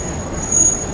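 A train stands at a station in Bangkok on the Wongwian Yai to Maha Chai line, giving a brief close rumble with a thin high-pitched whine from the carriages.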